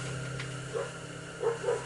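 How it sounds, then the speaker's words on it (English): Dog barking outdoors at a distance, three short muffled barks spaced irregularly over a steady low hum indoors. "I'm sure y'all can hear my dog going nutso out there."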